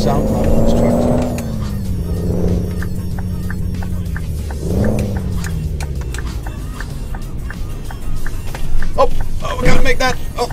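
Simulated truck engine from Euro Truck Simulator 2, hauling a 24-meter tandem rig, rumbles steadily with shifting pitch as the engine revs rise and fall, while someone talks over it throughout.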